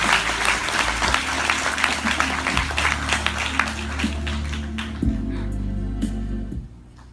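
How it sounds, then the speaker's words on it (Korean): Sustained applause from a seminar audience for people on stage, dense clapping that holds steady for several seconds before fading out at the end. "이분들께 박수 부탁드립니다."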